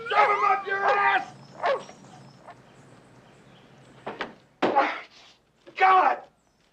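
A dog gives several short, sharp barks and yips in separate bursts, some clustered close together and some spread apart, with someone speaking between them.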